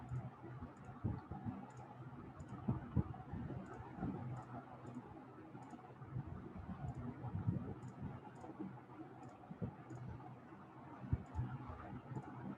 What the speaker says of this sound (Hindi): अच्छा इस पर क्लिक किया